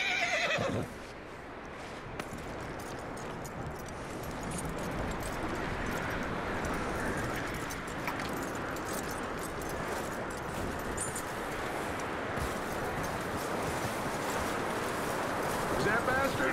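A horse in Red Dead Redemption 2 whinnies near the start, then its hooves clop steadily under a dense, continuous game soundscape; voices speak over it at points.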